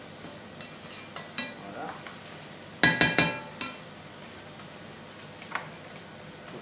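Morels frying in a pan as their moisture cooks off, a steady low sizzle with a quick burst of clinks from a utensil against the pan near the middle and a few lighter taps; a brief word is spoken.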